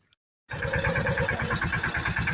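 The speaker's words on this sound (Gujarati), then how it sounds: "તો ભાઈ આપણે ટ્રેક્ટર લઈને છે ને નીકળી ગયા છીએ" After a brief silence, a tractor engine rumbles into steady running, a close, loud, rhythmic diesel chug.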